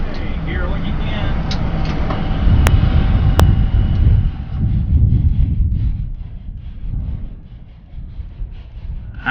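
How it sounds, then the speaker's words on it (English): A Boeing 787-9 Dreamliner jet roars deep and loud on its takeoff run, a heavy rumbling blast buffeted by wind that eases somewhat toward the end, with voices faintly present. "We're clear for takeoff, 14 left, Boeing 536 Heavy."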